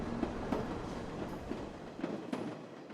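Fukuoka subway train just after departing Meinohama Station, heard from inside as a steady rolling rumble with faint rhythmic clicks of wheels on rail joints, fairly quiet.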